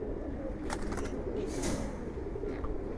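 Giribaz pigeons at a large pigeon farm coo in soft low murmurs, faint and close, with a few brief higher chirps over steady background noise and no clear talk.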